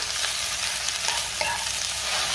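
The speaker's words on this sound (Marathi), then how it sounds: "भेंडी आपण साधारण 2 मिनिटं चांगली परतून घ्यायची आहे तेलावरती" Okra stir-fries in hot oil over a high-to-medium flame, a steady close sizzle with faint scraping of a spatula against the pan and no talking.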